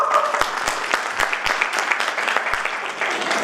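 An audience at a women's rally in India claps in a dense, continuous round of applause, close and loud, with sharp individual claps standing out and no speech over it.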